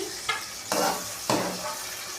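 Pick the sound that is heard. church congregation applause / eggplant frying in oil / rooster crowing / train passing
eggplant frying in oil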